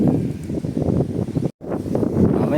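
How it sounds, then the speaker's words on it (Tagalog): Strong wind gusting at a beach, a steady broad roar buffeting the microphone with a brief sudden dropout partway through, no voices. "Ngayon nga lang lumakas uli ang hangin ay."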